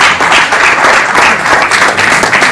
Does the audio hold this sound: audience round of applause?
yes